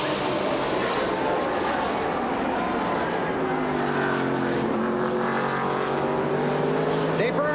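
A NASCAR race car runs the last lap at Watkins Glen, its engine whining and rising in pitch through gear changes, loud and continuous beneath a commentator's voice.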